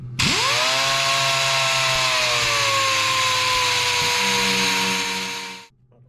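A power sander spins up and runs steadily on painted, powder-coated metal, a loud close whine that holds for about five seconds, shifts slightly in pitch partway through, then cuts off.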